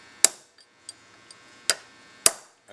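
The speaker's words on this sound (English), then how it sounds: "I got an old chisel that I flattened out the end on, and just give it a couple of whacks." A flattened old chisel is struck with a hammer while working on a Studebaker valve: three sharp, loud metallic whacks with brief ringing, plus a couple of lighter taps between them.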